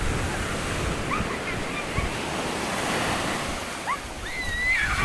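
Large ocean waves surge and crash continuously in Bicol, Philippines, with wind noise across the microphone, with a few faint voices in the background.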